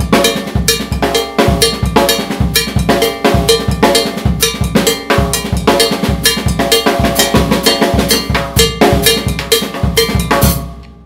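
A Latin drum groove anchored by a traditional bongo bell, loud, bright metallic strokes in a steady, driving rhythmic pattern over drums, sounding alone without voices.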